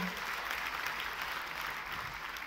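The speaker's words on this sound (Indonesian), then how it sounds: "kalau mau tepuk tangan, tepuk tangan yang paling meriah saudaraku" A church congregation claps during a sermon, a continuous, evenly sustained wash of applause heard from within the room at moderate volume.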